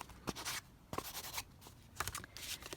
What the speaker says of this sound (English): take the pad itself and just go like more heavily around the edge of that envelope